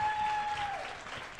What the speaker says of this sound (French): Bonne main d'applaudissements pour Nicolas.